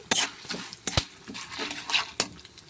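Urad dal, chana dal, coriander seeds and cumin being stirred and fried in a pan for coriander roti pachadi, with scattered utensil scrapes and clinks against the pan at close range, no talking.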